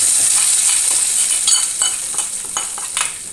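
Mustard seeds sizzle and crackle in hot oil in a pan for a homemade ginger curry, a loud continuous frying hiss with light stirring scrapes and small pops.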